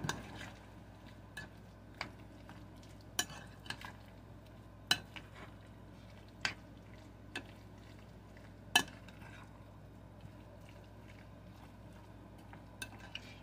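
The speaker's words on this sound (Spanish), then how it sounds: "Y vamos a revolver." Fresh parsley being stirred into a creamy imperial crab mixture, with a spoon knocking against the bowl in sharp clinks spread irregularly through a quiet, steady kitchen background.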